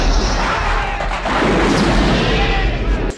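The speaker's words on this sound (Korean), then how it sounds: "우선 M202 로켓 발사 후 M67로 전방 수류탄 1차 투척하셨고요" Explosions from the 1985 film Commando, an M202 rocket launch followed by an M67 grenade, make a loud, continuous roar of booming blasts and rumbling debris.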